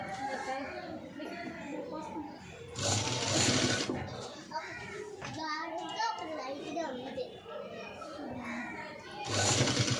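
Sewing machine stitching the sleeves of a boat-neck blouse, running in two loud bursts near the start and end, with a voice talking steadily throughout and between them.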